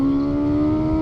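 BMW S1000XR touring motorcycle engine heard while riding through a long bend, a loud steady high-pitched engine tone holding one note over continuous wind rush, with no talking.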